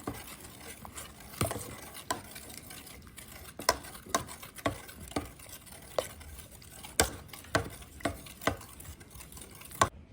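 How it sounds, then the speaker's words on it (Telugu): A spoon stirs custard powder into lukewarm milk in a bowl, giving a steady rhythm of light scraping strokes and soft taps against the sides, close and quiet, with no voices. "కస్టర్డ్ పౌడర్ అంతా పాలలో మిక్స్ అయ్యేదాకా ఇలా కలిపేసుకోవాలి"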